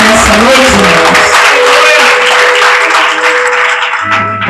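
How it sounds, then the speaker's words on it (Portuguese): Church congregation applauding at an evening service, a dense, steady wash of clapping that fills the space loudly throughout, with a sustained tone ringing underneath and a low hum entering near the end. "Você pode aplaudir ao Senhor Jesus pela sua palavra nessa noite"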